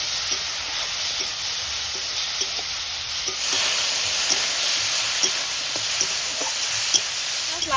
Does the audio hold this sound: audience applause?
no